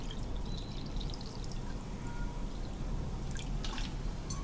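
Water pours in a steady, faint, continuous trickle into a bowl of semolina being readied for halwa, with a few light drips and clinks toward the end and no talking.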